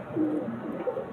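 A male pigeon held in the hand gives a short, soft, low coo close by, with no voices.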